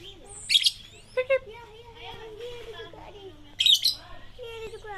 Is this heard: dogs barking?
no